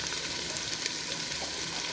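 Diced onions sizzle and fry steadily in a Ninja Foodi, a continuous even hiss heard up close with no talking, moderately quiet and unbroken from start to finish.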